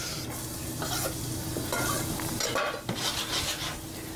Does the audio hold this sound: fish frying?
yes